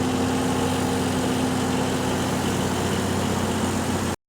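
A bulldozer's diesel engine runs at a steady idle, a loud continuous rumble with a droning hum that carries on without a break and then stops abruptly.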